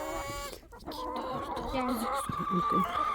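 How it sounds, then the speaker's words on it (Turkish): Backyard chickens clucking, a flock of about sixteen hens making close, steady clucks and soft chatter that run through the whole stretch with no talk. "Ay tavuklarım benim ya."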